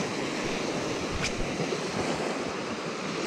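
Small waves wash continuously onto a sandy beach, a steady broadband rush of surf with wind noise on the microphone and no voices.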